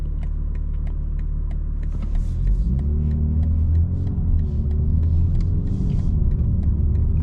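A 2025 BMW M4 Competition xDrive cruising at night in comfort mode with its exhaust valves closed, a steady low engine rumble inside the cabin that swells slightly with a gentle rise in revs.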